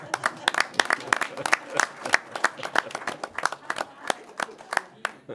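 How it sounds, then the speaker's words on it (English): A small group at a county board of commissioners meeting gives a round of applause, loose, irregular, crisp individual handclaps from a few people close by, with some talking mixed in. "a round of applause for Micah, our Mr. Santa Claus"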